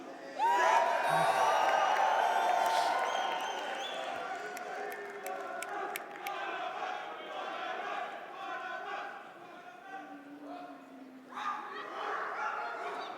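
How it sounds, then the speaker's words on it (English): Live crowd at a Rainbow Six esports major final in Copenhagen, loud whooping and cheering that swells at the start then settles into sustained crowd noise, with a brief shout near the end. "Can we get a cheer for the stage?"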